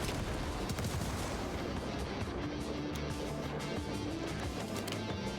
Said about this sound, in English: so if we carpet bomb here